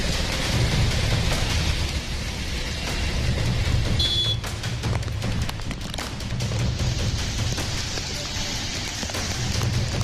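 Heavy monsoon rain pours down during flooding on Mumbai's streets, a loud, steady, dense roar that continues unbroken from start to finish with no voices.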